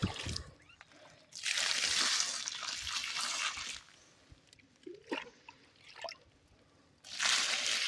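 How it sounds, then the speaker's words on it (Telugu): Water from a bucket poured over garden plants, splashing and trickling in several bursts with dripping between, fairly close and with no talk over it. "అన్నిటికీ అయితే చెట్లన్నిటికీ అయితే పోసేయాలి ఈరోజు"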